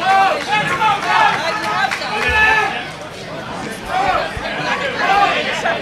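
Spectators at a Cage Legacy 7 cage fight cheering and shouting in a loud, continuous crowd roar that dips briefly midway and surges again, with scattered thuds underneath.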